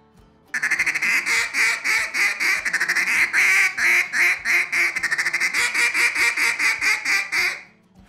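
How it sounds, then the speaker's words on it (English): A duck call blown in a steady rolling feed chuckle, a fast run of short quacking pulses repeating close and loud with no talk over it. "Now traditionally people use this with the rolling feed and it sounds like this."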